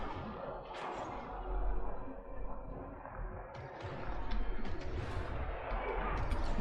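Units firing on a Total War: Warhammer 2 battlefield, a distant, muffled crackle of gunfire and thuds rolling continuously under a low wash of battle ambience.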